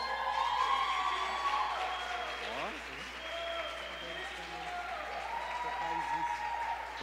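A church congregation applauds during an evening worship gathering as a preacher is welcomed, steady broadband clapping throughout, with amplified voices and reverberant hall sound underneath.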